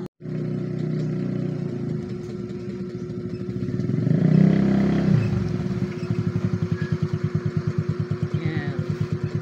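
A motorcycle engine rumbles steadily, swells louder as it draws near, then settles into a rhythmic idle putter close by; no talking.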